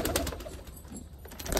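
Pigeons let out of a box, with soft cooing and a rapid clatter of wingbeats as they take off, close and brief.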